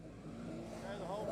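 A Holden race car launching off the start line at a Ford versus Holden drag racing night, a faint rising engine roar heard over commentary.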